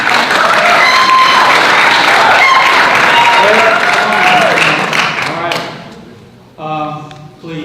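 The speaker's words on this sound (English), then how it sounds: "Please, no applause." Loud, sustained clapping from an audience at a 2018 Texas gubernatorial debate fills most of the stretch, fading out before a voice speaks at the end.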